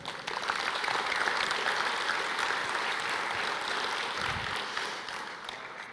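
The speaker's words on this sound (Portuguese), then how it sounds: "Olha, gente, pode aplaudir" A church congregation applauds together in a broad, sustained wash of clapping that fades slightly toward the end.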